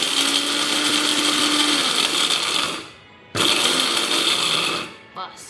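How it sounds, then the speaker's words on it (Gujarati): An electric mixer grinder crushes grains coarsely in loud, dense whirring bursts. It runs for a few seconds, cuts off briefly, then restarts and winds down, with a short clatter at the end. "તો હાલો આજે તો આ મિક્સરમાં કરશું."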